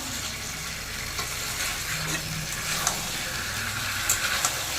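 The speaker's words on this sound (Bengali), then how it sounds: "সমস্ত আলু ফুলকপিগুলো মশলাতে দিয়ে দিলাম এবারে মশলার সঙ্গে খুব ভালো করে মিশিয়ে নেব" Potato and cauliflower pieces frying in spices, a constant close sizzle overlaid with scattered scraping and clinking as the mixture is stirred in the pan, no voices.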